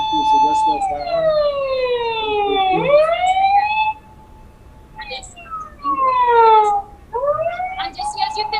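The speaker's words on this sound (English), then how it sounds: "Yes, we have an ambulance passing." An ambulance siren wails past in long falling and rising sweeps, loud and near, briefly dropping away before returning with another sweep, with faint background chatter around it on a street in Saint Lucia during the general elections.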